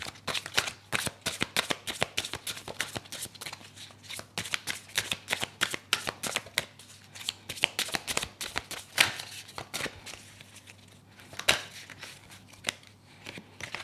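Oracle cards are shuffled by hand during a card reading: a dense, rapid stream of crisp papery flicks and riffles, close and continuous for over ten seconds with no talk.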